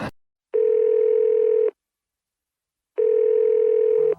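A telephone ring-back tone sounds as a call is placed: two long, steady electronic tones about a second each, separated by a gap of silence, clear and alone.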